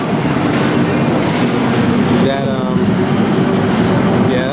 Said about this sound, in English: that's the clown train